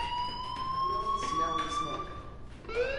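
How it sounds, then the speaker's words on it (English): A fire alarm rings in a PS4 video game, a steady high electronic tone with slowly rising pitch and sharp harmonics, sounding continuously under faint background noise, with a rising chirp near the end. "Hey, do you hear that fire alarm?"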